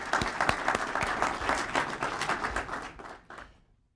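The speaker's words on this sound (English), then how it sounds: "So I'd like to give them a round of applause." An audience at the Winthrop Rockefeller Distinguished Lecture Series gives a round of applause: several seconds of steady, fairly close clapping that thins and fades to silence at the end.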